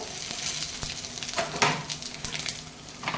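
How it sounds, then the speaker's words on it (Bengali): Whole spices including bay leaves, cardamom, dried chili, cinnamon, cloves and cumin fry in hot oil, giving a steady close sizzle with occasional stirring scrapes and light clatter and no talking. "এবার ফোড়ন দেবো তেজপাতা দেবো দুটো এই চারটে এলাচ শুকনো লঙ্কা দালচিনি লং আর এই জিরে মরিচ সব ফোড়ন দেবো"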